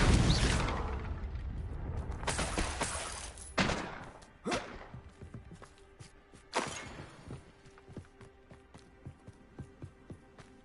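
Confringo spell blasts in Hogwarts Legacy go off as a big explosive burst followed by several sharp booming impacts that fade into lighter crackles and footsteps.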